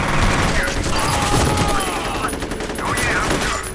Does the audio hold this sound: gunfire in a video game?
yes